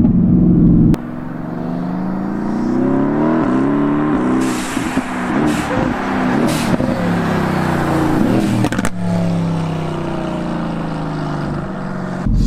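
Renntech-tuned Mercedes-AMG supercar engine revving hard and high, a loud sustained roar with rising and falling pitch that stays close and continuous throughout.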